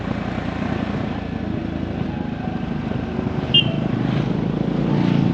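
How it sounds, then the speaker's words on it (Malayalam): Motorbikes ride along the hilly Vattavada route with a continuous mid-distance engine drone, a brief sharp chirp partway through, and the roar swelling slightly as a bike draws nearer at the end. "ഈ റൂട്ടിൽ കൂടുതലും മോട്ടോർ ബൈക്സ് ആണ് കാണുന്നത് കേട്ടോ."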